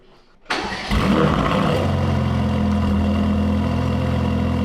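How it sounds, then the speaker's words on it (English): Mercedes-AMG GT Black Series engine cold-starting after sitting: a brief quiet moment, then a sharp crank and bark that settles into a loud, steady, rumbling high idle, close up, with no talking. "It's going to be a cold start because the car's been sitting here."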